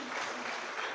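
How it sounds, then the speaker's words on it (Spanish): A church congregation at a Spanish-language service gives a loud round of applause, a continuous wash of clapping heard close and steady for a moment. "Damos un fuerte aplauso al Señor."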